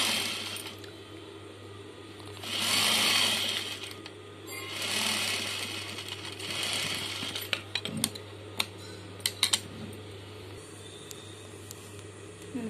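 Sewing machine stitching fabric for an umbrella skirt: two whirring bursts of stitching, then lighter mechanical clicks and taps as the fabric is adjusted, over a steady low hum, with no talking.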